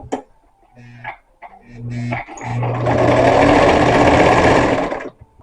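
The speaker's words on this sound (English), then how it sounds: "I'm going to stitch from here at the seam allowance width." A sewing machine stitches a seam on a pillow sham, running in one loud, steady buzzing burst of about two and a half seconds after a few quiet fabric handling sounds and short motor starts.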